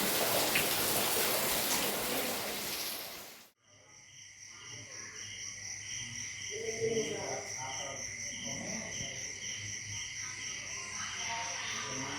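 Rain falls steadily outdoors at night, a constant hiss of drops with crickets trilling in the background and faint voices murmuring beneath.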